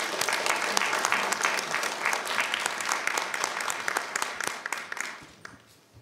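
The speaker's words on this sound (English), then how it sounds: "a round of applause for our Forest Park JROTC" Applause at a school board meeting for a high school JROTC unit after a drill, dense clapping from a sizable room that thins out and fades over the last second.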